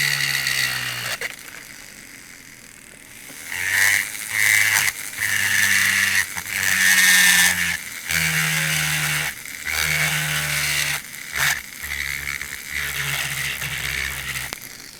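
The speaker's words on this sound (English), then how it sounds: "It drills even more easily when it's fully hard." A power drill bores into hardened Jett Basic material, whirring in repeated steady bursts of a few seconds each, with short pauses between passes, close and fairly loud.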